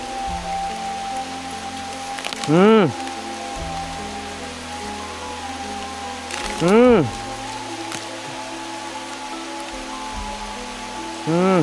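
Steady rain hisses throughout as a dense, even wash, while a few rising whistle-like tones and a faint hum sit on top.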